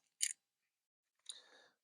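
Scissors set aside during a LEGO build, giving a brief sharp metallic snip or clack, then after a pause a second faint clatter and slide across a surface, close and quiet with no talk.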